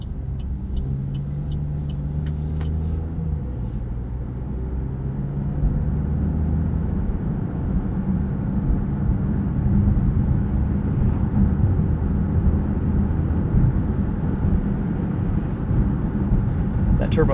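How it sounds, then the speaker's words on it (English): A 2024 Buick Envista Sport Touring's turbocharged three-cylinder engine accelerating from inside the cabin, a low rising drone that steps up through gears and grows louder midway with a steady road rumble. "Turbo 3-cylinder doesn't need to work too hard to get up to speed, which is nice."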